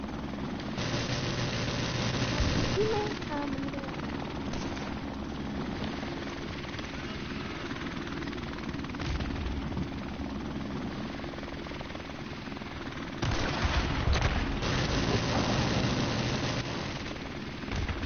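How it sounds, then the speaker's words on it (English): Friendly military helicopter in Modern Warfare, rotor drone steady and loud throughout, swelling closer near the end, with a low engine rumble and no talk. "Friendly helicopter on the way."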